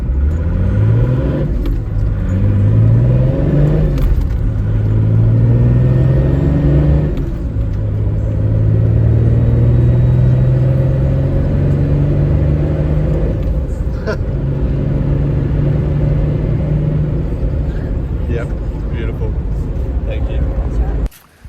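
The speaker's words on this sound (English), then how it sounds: "So I'm going to do a quick pull and not absolutely floor it, but just to show you guys how it's like to drive now." A Toyota Land Cruiser 105 fitted with a Unichip accelerates on a highway, engine note rising repeatedly through gears in a steady, close cabin rumble that lasts throughout before cutting off abruptly.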